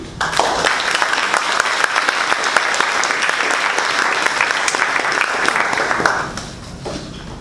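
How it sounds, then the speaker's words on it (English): Audience at a May 2023 graduation ceremony in Palm Beach applauds the graduating fellows, a dense, sustained burst of many hands clapping that fades near the end. "And for that, we applaud you."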